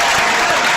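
Applause from a live wrestling show crowd, a dense continuous wash of clapping filling the whole moment at steady loudness with no gaps.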